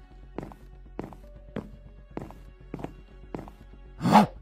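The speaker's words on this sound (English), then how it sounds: "I could have sworn I heard footsteps behind me." Footsteps in a Minecraft animation land as about seven evenly spaced, soft thuds in a quiet space, followed by a louder burst at the end.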